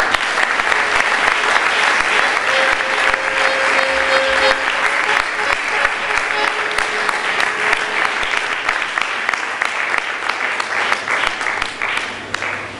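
An audience at a Trinity Biblical University convocation applauds loudly to welcome Bishop Naeem Sembal, a sustained dense clapping that holds strong for the full length before easing slightly at the end.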